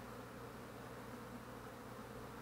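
Honey bees buzz steadily around an open hive during a queenless-colony inspection, a dense continuous drone close to the microphone with no talk.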